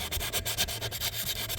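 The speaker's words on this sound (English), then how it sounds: "Just gonna try to get rid of any of the burrs that are down in there in the holes, and drilling it out" A hand tool scrapes the burrs out of drilled holes in metal for a shelf, making a rapid, repeated rasping and rubbing sound, close and steady, with no voices.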